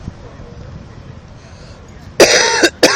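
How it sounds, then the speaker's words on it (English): A man coughs sharply twice near the end, loud and close after a quiet stretch of faint room hiss. "I got my cough there"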